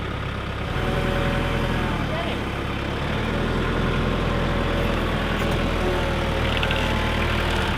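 A 5,000-pound tractor engine idles steadily with a low, continuous rumble, loud and close throughout at a homestead teardown, while people talk over it.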